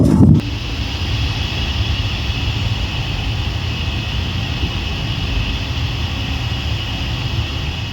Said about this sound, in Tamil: ஆனால் காற்று வந்து ரொம்ப பயங்கரமாக இருக்குது.